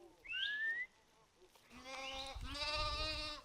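A flock of sheep bleats on a Himalayan mountain pasture in Himachal Pradesh. A short, high bleat comes first, then a pause, then longer, wavering bleats from several animals close by.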